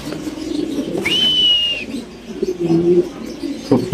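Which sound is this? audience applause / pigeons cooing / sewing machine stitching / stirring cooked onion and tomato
pigeons cooing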